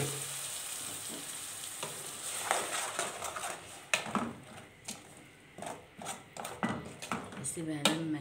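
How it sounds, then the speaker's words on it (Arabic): Onions frying in a pan, browning and close up, with steady sizzle and repeated stirring scrapes; someone talks over it throughout. "شايفين البصل اهي بدأت تحمر، انا مش عايزاها تتحرق زيادة عن كده"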